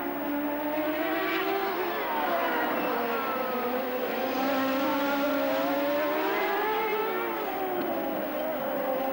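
1996 IndyCar race cars on the straightaway at Mid-Ohio, a loud, continuous high-pitched engine wail that rises and falls in pitch as the cars accelerate and pass.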